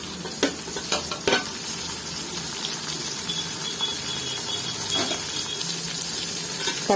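Steady sizzling of shallots frying in a pan, with occasional scraping clicks from stirring, continuous and fairly close.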